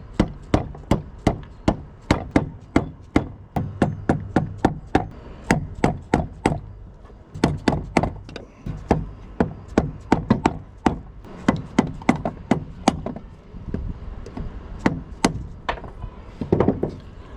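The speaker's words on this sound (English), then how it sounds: "put it on a flat surface and put the screwdriver on the inner bearing race and tap it out" A screwdriver is tapped with sharp, repeated knocks to drive out the inner race of a water pump bearing on a KX125 dirt bike, a long series of crisp, close hits in irregular bursts, heard alone.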